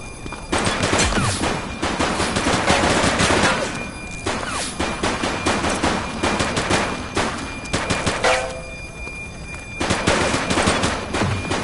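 Rapid, sustained gunfire from a police shootout with a suspect: loud overlapping bursts and volleys, near and continuous across the whole stretch, with barely a pause and no talking.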